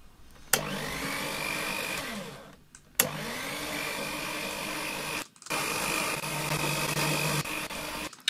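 Raw recording of a paper shredder played back, three loud steady whirring motor bursts of a few seconds each, starting abruptly and separated by short silent gaps.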